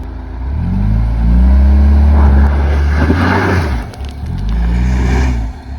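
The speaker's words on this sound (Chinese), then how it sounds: "右脚深踩油门到一定转速之后，突然松开刹车，让车子一下子蹦出去。" Mini car engine revving hard on an off-road slope, a loud close roar climbing in pitch, dropping briefly, then surging again.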